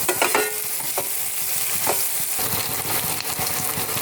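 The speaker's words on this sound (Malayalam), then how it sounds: "ഇളക്കി കൊടുക്കാം." Capsicum and onion stir-fry sizzling steadily in a pan with a bit of salt, with a few scraping stirs of a spoon against the pan over the constant frying hiss.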